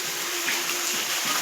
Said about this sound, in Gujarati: પવન સાથે વરસાદ આવે હો ભાઈ. ફૂલ વરસાદ હો.